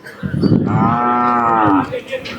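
A single long, loud moo from a nearby native bull or cow at a weekly cattle market in Palayakottai, with Kangayam cattle on sale, rising and held for over a second against faint market background.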